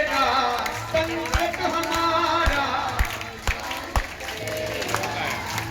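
Audience clapping in rhythm to devotional singing, without dholak, organ or pad, with steady beats under a sung melody and voices.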